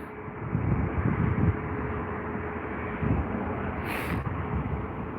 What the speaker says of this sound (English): Taking a good 3/4 of the runway to get airborne. But he's up, up, up and away.